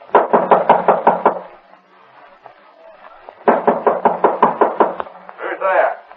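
Rapid bursts of loud fist pounding on a bolted wooden door, two long volleys of heavy knocks separated by a pause, with voices talking between them.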